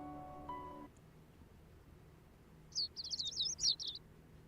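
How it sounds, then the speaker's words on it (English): Video game bird chirps arrive as a quick cluster of bright tweets near the end, after a short musical tone at the start, over a quiet low hum. "Sounds of bird chirping slowly raises me from my dream into consciousness."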